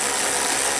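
A ratchet tightens radiator fan bolts on a Dodge Dart, giving a short, steady, close-up burst of fast mechanical clicking with no talk.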